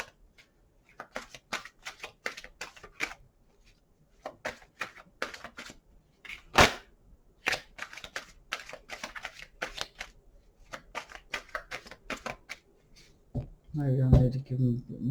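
Tarot cards shuffled in repeated quick riffling bursts, crisp and close, with brief pauses between rounds and a slap of the deck near the end.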